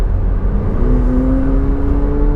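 McLaren 720S engine, a loud, close, steady growl with a low rumble and a tone rising gradually as the revs climb, no voices over it.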